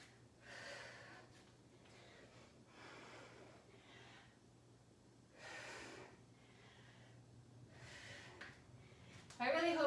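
Heavy, rhythmic panting from a person working through a bodyweight squat routine, breathy exhalations repeating roughly every second, close to the microphone over a faint hum.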